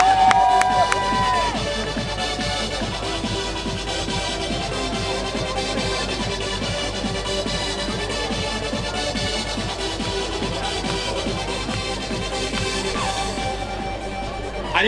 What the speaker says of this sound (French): Applaudissements mesdames et messieurs pour Tristan Némi.